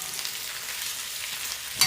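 Food stir-frying in a large 14-inch cast iron wok, a steady close hiss and sizzle throughout with a brief clatter at the end.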